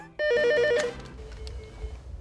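A telephone rings once at a police station, a loud, close electronic trill with a warbling two-tone pattern that stops abruptly, followed by a faint room murmur.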